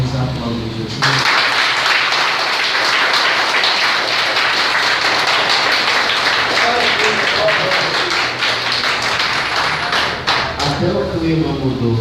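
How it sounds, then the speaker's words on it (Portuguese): A church congregation in Manaus applauds together, a dense loud sustained wash of clapping filling the room for several seconds, with voices mixed in and a sharp start. "Vamos aplaudir Jesus"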